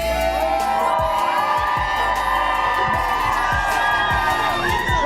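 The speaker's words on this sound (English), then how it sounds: "we have a fired-up crowd today" A lively outdoor crowd cheers and whoops on a plaza during a morning TV show, loud continuous shouting and screams from many voices, close and sustained.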